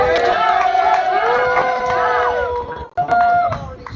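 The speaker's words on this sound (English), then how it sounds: "give our MCE a round of applause." A crowd at a high school agricultural inauguration and handover ceremony cheers and whoops loudly for the MCE, with shouted voices and yells rising together, close and energetic, briefly dropping off before resuming.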